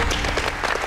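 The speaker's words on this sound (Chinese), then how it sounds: "掌声鼓励。" A studio audience at a Taiwanese television quiz show bursts into a short, dense round of clapping that stays loud and even throughout.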